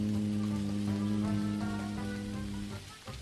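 Steady rain patters on surfaces in the game Dinkum, a continuous hiss under sustained background music that fades slightly toward the end.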